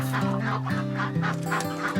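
Several ducks on a farm honk and quack in a steady, repeating series of nasal calls close by, loud and continuous with no talk over them.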